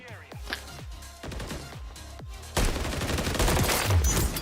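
Gunfire from a Call of Duty match at a CDL Major 1 championship, with bursts of shots that grow into a dense, loud volley in the second half, while voices talk underneath.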